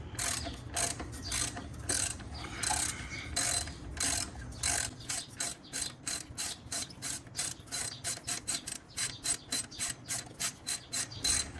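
A battery-operated ratchet works on a Honda during an Acura TSX wagon J-swap, making quick rhythmic clicking bursts that are close and fairly quiet, speeding into a tight run of clicks toward the end.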